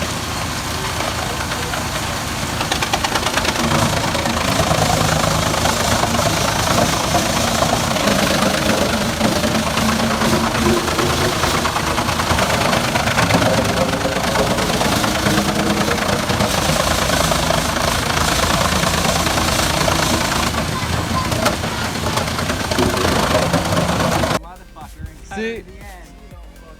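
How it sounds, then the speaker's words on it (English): A New Holland tractor engine running flat out to power a wood chipper, a loud, steady, dense roar that holds for over twenty seconds before cutting off abruptly near the end. "The New Holland runs flat out just to keep the chipper fed."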